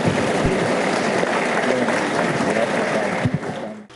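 Sustained applause greets an inauguration at an Institute of Directors Nigeria event, a dense, even roar of many clapping hands that tapers and fades toward the end.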